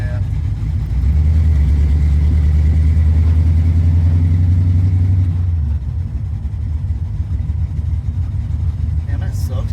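Ford Fox body car on its first drive, engine droning steadily from inside the cabin while a brake line scrubs against the drive shaft, a low continuous hum that drops away near the end.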